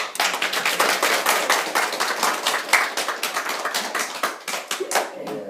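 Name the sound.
congregation clapping in thanks to God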